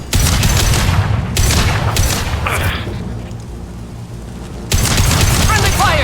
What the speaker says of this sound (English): Friendly fire, Shepard!